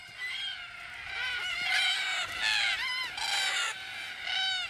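A flock of wild Australian cockatoos gathers at an evening watering hole, giving harsh, raucous screeching calls in repeated overlapping bursts that sound close and loud.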